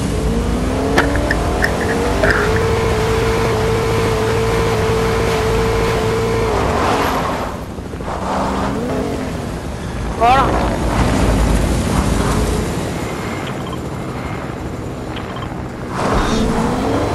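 A car engine drives in the Fortnite video game, a continuous loud motor drone with wind rush and shifting pitch, briefly dipping quieter midway before resuming, with no voices heard.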